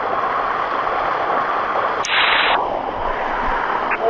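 Water rushing at the Sticky Waterfall, a constant broadband roar of falling water with a brief higher surge in the middle, loud and close throughout.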